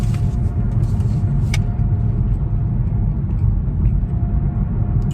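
A car's steady low engine rumble and road drone while driving, continuous and even throughout, with no talk over it.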